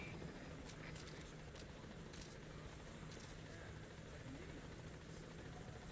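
The Pequod helicopter in Metal Gear Solid V arrives at a landing zone with a steady, loud rotor drone and whir that holds without a break throughout.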